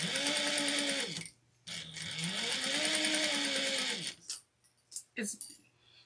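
Sewing machine basting layers of fabric for a two-toned snack bag, running in two long, steady bursts with a short pause between, then a few brief start-stop stitches near the end.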